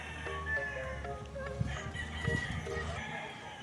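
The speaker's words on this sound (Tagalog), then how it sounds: "so dito mayroon din mga manok mga paps oh" Gamefowl roosters and chickens crow and cluck at a game farm, several birds overlapping at moderate distance.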